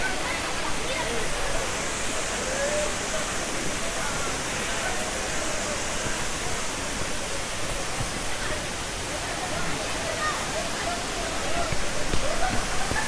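Continuous rushing roar of Kaigal waterfall, dense and steady from close range, filling the whole stretch without pause.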